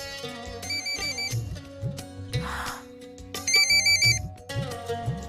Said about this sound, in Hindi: ले आ गया तेरे शागुल का फोन।